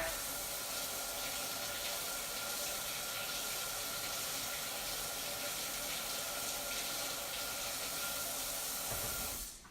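Hot water running steadily from a tap in a steady, hissing rush that stays even for several seconds and then cuts off at the end.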